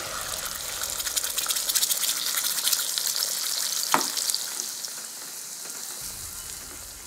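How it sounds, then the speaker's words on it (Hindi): Ground masala paste frying in hot oil for Kolhapuri-style eggplant curry, a loud, dense, steady sizzle close up with a faint stir or scrape partway through. "चलो अभी मैं ये मसाला जो पीसा है मैंने इसको भी फ्राई कर दे"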